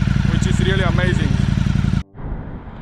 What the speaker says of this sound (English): You can hear how the engine change with 4 cylinders already